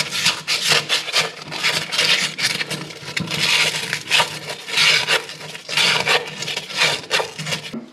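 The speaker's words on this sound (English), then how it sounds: "Clean up with some sandpaper." Sandpaper rubs back and forth over an old pipe during a toilet supply valve replacement, giving close, steady rasping strokes in a repeated rhythm with no talk.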